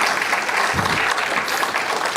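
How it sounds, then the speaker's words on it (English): Audience applause at a round table discussion on higher education in India, a dense steady clapping from a seated crowd that holds at an even level for the whole stretch, fairly close and with no talk over it. "Can we have a round of applause, please?"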